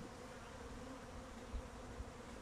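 A loose, unsettled honeybee swarm drifts through the air near branches, giving a steady, dense insect drone. The hum holds evenly throughout at low level with a couple of faint bumps and no voices.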